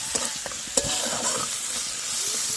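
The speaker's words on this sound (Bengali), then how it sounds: "ভাজা হয়ে গেল এখানে যে পেঁয়াজ দিয়ে দিয়েছি" Onions fry with dried fish in oil, giving a loud, continuous sizzle with a few sharp stirring knocks early on.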